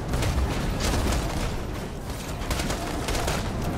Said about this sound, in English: I guess we'll just no-scope with the sniper rifle, sure.